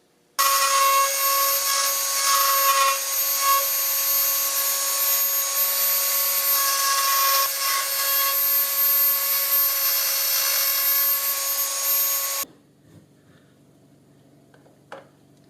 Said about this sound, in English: I'm just going to have to shave a little bit off this gauge face so it clears.